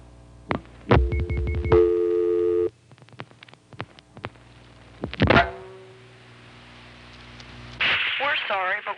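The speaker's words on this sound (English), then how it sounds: "Now let's just dial a local vacant code" A 1976 #5 Crossbar telephone exchange in Fredericksburg, Virginia, handling a dialed local vacant code: sharp clicks and thunks, brief tones, relay chatter, then a rising line tone near the end.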